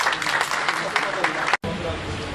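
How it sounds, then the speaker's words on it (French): An audience at an awareness-day event applauds loudly and steadily, broad clapping from a crowd that cuts off briefly and then resumes. "Sous vos applaudissements s'il vous plaît."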